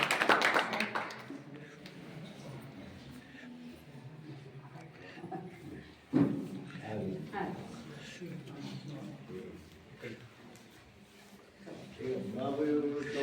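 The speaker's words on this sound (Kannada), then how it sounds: "ಅಸಲ ಜೋರಾಗಿ ಚಪ್ಪಾಳೆಯನ್ನು ತಟ್ಟಿ ಮತ್ತೊಂದು ಸಲ ನಾವೆಲ್ಲ" Scattered claps and taps from an audience at a 75th birthday celebration honouring a retired district social welfare officer, brief bursts rising around the middle and end, mixed in with people talking in a hall.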